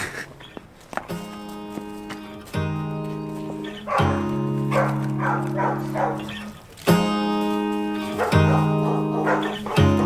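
Dogs bark in clusters, some yipping and whining, with a steady tonal background hum throughout.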